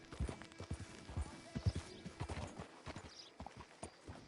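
Horse hooves clip-clopping in the Red Dead Redemption 2 Online beta, a steady run of close, uneven thuds with some game ambience behind and no speech.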